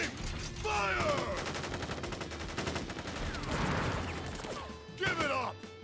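Soldiers fire a rifle volley in Crisis Core: Final Fantasy VII, a dense and sustained rattle of gunfire that runs for several seconds. Whooshing effects and impacts mix in, and some voices call out during it.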